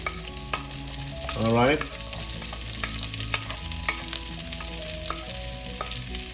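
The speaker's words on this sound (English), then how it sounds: "Now we're ready to saute our aromatics. Let's start with all the garlic, onions, and ginger." Garlic, onions and ginger sauté in a pan as aromatics for Filipino laing, a steady sizzle with spatula clicks and stirs, and a short spoken word near the start.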